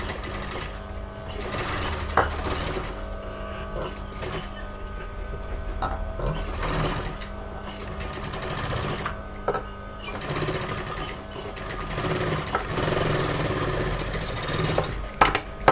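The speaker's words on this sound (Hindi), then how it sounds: "इसके जस्ट पास में सिलाई लगानी है, गैप भी नहीं छोड़ना है" A sewing machine runs steadily for the whole stretch, stitching close along a suit neckline stiffened with buckram and paper fusing. The close, even whirr varies only slightly in pace, with no talking.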